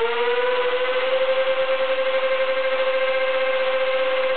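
A motor runs steadily during a test run, giving a loud, even whirring hum with a fixed pitch and a fast regular pulse, close by and alone with no talk.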